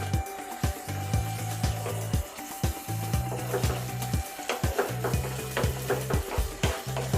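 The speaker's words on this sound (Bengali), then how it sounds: "এটাকে আবার আমাদের ভাজা ভাজা করতে হবে যতক্ষণ না দই তার তেল" Beaten curd masala fries over medium heat in a pan for dhaba-style paneer curry, with a low sizzle under a rhythmic series of close spoon knocks and scrapes against the pan.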